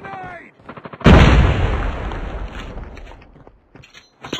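A grenade goes off in the Call of Duty video game, one loud, close blast that hits abruptly after a brief moment of game noise, followed by a long rumbling tail of debris and gunfire fading over several seconds.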